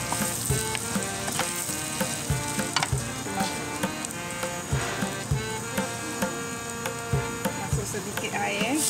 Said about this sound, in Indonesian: Tumis bawang besar, lepas itu kita masuk saja rempah kari itu.